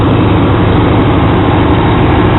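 Truck engine idling with the AC compressor engaged, a loud, steady low rumble and broadband drone, close and unbroken with no talk, in a setup where the AC system was recharged with propane refrigerant.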